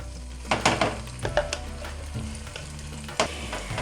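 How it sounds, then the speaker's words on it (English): Roasted tomato paste fries in about two tablespoons of hot oil over medium heat, a low steady sizzle broken by several sharp scrapes and clinks of a spoon stirring against the pan. "Once the oil is hot, we bring the heat to medium and we put in the paste."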